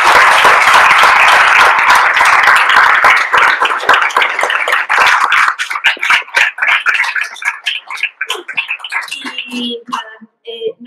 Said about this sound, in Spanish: Un súper aplauso.